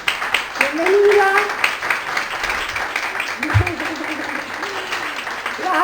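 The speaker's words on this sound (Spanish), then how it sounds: "para que todas la recibamos con un aplauso" Members of a Spanish-speaking church congregation applaud to welcome a new woman into the community, a lively burst of clapping that swells early and then thins, with voices speaking over it.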